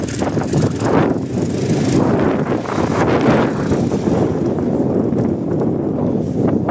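Wind buffets and roars across the microphone of a motorbike during a hill-road ride, a steady, dense rushing noise with rough gusty swells and no voices.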